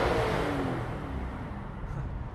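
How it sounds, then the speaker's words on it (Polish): A BMW M3 engine blips its throttle at idle, a close, loud broadband roar with low engine harmonics that holds steady then eases slightly. "Możemy tu sobie przygazówkę zrobić na jałowym."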